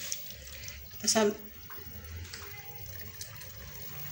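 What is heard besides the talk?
one litre of water poured into chicken qorma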